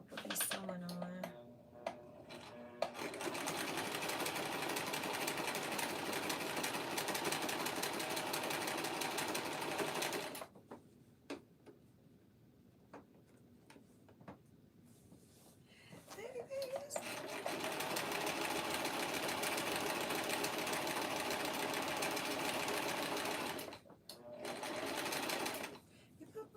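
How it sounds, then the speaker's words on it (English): A sewing machine stitches through tape in long steady bursts, whirring loud and close, stopping around ten seconds for a pause before running again, with a voice heard in the gaps. "This is probably not the best tape to be sewing on."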